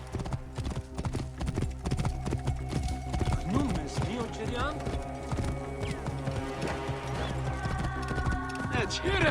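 Horse hooves clip-clop steadily alongside a neigh in the video game Assassin's Creed Origins, close and moderately loud, with game dialogue voices over the hoofbeats.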